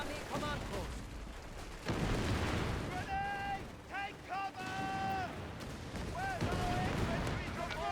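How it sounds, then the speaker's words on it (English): In the World War II strategy game Company of Heroes 3, an anti-tank gun fires at a Panzer IV tank. Heavy booming shots and impacts crack over rumbling battle noise, with ringing metallic tones between blasts and someone talking throughout. "AT gun's hitting my P4, trying to pull that back"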